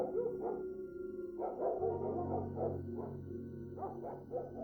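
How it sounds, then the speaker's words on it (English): A dog barks repeatedly in short bursts, fairly close, with yips and whimpering tones between barks. "It's even about that dog barking."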